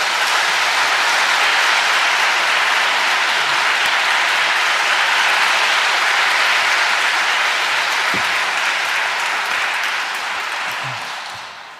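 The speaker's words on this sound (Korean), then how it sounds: "큰 박수로 맞아주십시오" Loud, sustained audience applause welcoming a lecturer to a Lenten special lecture at Myeongdong Cathedral, dense clapping throughout that tapers slightly at the end.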